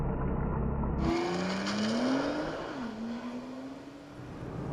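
A Nissan GT-R, a 2010 or 2014 model, launches hard and accelerates away. The engine note climbs steadily, dips briefly at a gearshift and then rises again under a broad roar of wind and road noise, heard from inside the car.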